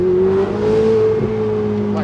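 Ferrari 488 Spider engine revving on a downshift, heard from inside the car as a loud, steady droning growl that rises slightly in pitch and then settles, continuous for about two seconds.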